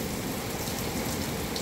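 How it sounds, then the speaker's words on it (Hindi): Heavy rain pours down steadily during a storm, a dense, continuous hiss of drops striking surfaces up close, with no voices over it. "बारिश ने बहुत माहौल ख़राब कर दिया"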